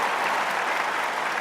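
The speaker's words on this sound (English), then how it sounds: "as you can tell by the noise around centre court, the crowd really looking forward to this match" Steady, dense applause and crowd noise fill Wimbledon's centre court, a continuous loud clapping roar throughout.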